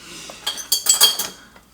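A metal spoon clinking against a container while scooping sugar for a coconut rum fruit drink, a few bright close clinks and scrapes in quick succession.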